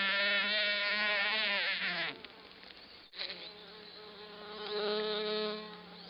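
Male squash bees buzz loudly and continuously among squash flowers in a farmscape planting, a dense close drone that dips briefly midway before swelling again.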